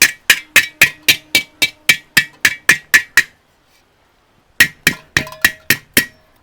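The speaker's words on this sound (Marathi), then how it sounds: "हे आपण कितीतरी जोरामध्ये चमच्याने घासतोय" A steel spoon worked hard against the burnt, blackened bottom of a cooking pot makes loud, close metallic strokes in a fast steady rhythm, a brief pause, then another run of strikes.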